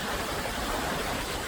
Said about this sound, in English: The most powerful waterfall in the world on the Nile River.